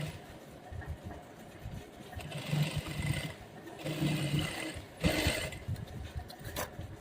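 A sewing machine stitches a half-inch folded hem in fabric from an old gown, its whirring coming close and steady in uneven bursts with brief pauses between runs.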